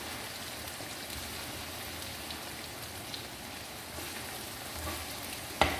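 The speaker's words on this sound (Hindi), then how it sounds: "तवे के ऊपर कीमे को हम इतना अच्छा सा भूनेंगे" Minced meat keema with yogurt frying on a large tawa, a steady dense sizzle throughout with no talk, ending in a sharp metallic clank.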